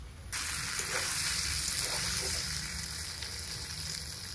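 Water poured onto goat mutton in a hot pan sets off a sudden loud hiss that bursts in after a quiet moment, then settles into a continuous close sizzle.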